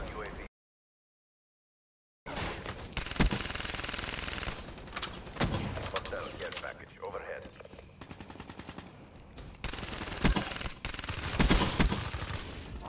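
Bursts of gunfire in a multiplayer video game shooter, with sharp repeated shots and rattling automatic fire after a brief silence, fairly loud and continuous with some game noise mixed in.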